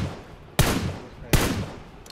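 Two loud gunshots fired at a bot in the video game BGMI, sharp reports less than a second apart, each trailing off into a short echoing decay.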